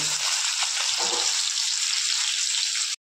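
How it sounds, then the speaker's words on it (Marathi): Chopped green chillies sizzle and fry in a pan with browned ginger garlic paste for soybean pulao. The hiss is steady and close, with a brief stirring clatter near the start. "आता बघा मिरच्या पण फ्राय झाल्यात"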